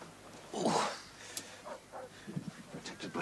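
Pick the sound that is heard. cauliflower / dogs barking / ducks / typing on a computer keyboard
dogs barking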